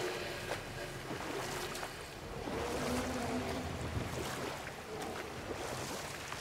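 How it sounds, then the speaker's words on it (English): A boat sails across open water in a video game, with a steady, faint wash of waves and wind around the hull throughout and no voices. "I'm gonna try and find a dock over here and dock this beautiful boat."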